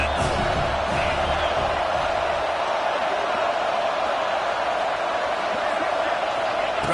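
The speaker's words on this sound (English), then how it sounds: "This crowd trying to make life miserable for this offense." Stadium crowd at a Michigan college football game, a dense, steady roar of thousands of fans with whoops and shouts, filling the whole stretch while a commentator talks over it.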